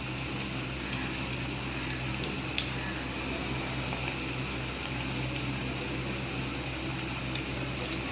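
Chicken pakora frying in hot oil over low heat, a steady, even bubbling hiss with faint crackles, continuous and close, with no talking.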